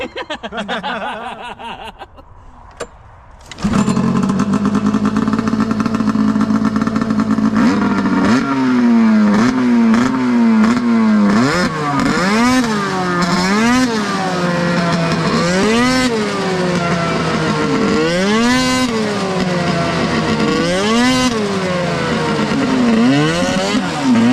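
An Arctic Cat F7 snowmobile engine starts after a few seconds of quieter sounds, then idles loudly and close before being revved repeatedly in rising and falling surges that continue to the end.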